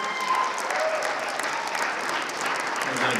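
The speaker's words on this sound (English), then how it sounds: "give a round of applause for our other 4 that didn't make it" A crowd at a poetry slam claps in sustained, lively applause that stays loud and even throughout, with some voices mixed into the clapping.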